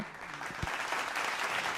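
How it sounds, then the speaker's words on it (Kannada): An audience at a televised singing reality show applauds, a dense, fairly soft wash of many hands clapping together that holds steady for under two seconds. "ಚಪ್ಪಾಳೆ, ದಯವಿಟ್ಟು ಚಪ್ಪಾಳೆ ಕೊಡಿ"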